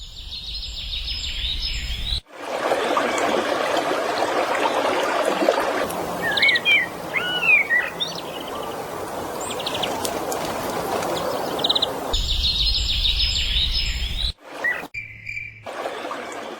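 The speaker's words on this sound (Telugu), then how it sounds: "పక్షి సమూహాల కిలకిల రావాలు" Birds chirp among dense trees and bushes in a forest, a steady twittering chorus with quick rising calls and insect buzz beneath, fairly loud and continuous, broken by short gaps where other sounds take over.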